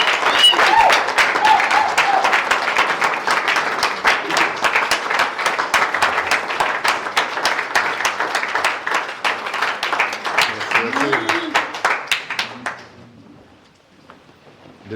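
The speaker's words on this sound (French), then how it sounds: "On va tous se lever pour applaudir à papa." A crowd at a political matinee gathering applauds loudly, clapping in a fast, fairly rhythmic beat for about twelve seconds with some voices over it before it stops abruptly and falls quiet.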